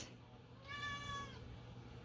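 A cat gives a single drawn-out meow, close and fairly clear over a low background hum in a quiet indoor room.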